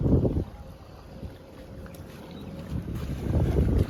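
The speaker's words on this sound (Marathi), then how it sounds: "या बोटीने आता आपण चाललोय मुळे काढायला." A small boat moving along a creek at Malvan, with a low rumbling wash of water and hull noise under steady wind buffeting the microphone, swelling at the start and end, and no talking.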